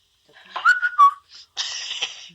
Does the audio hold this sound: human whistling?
yes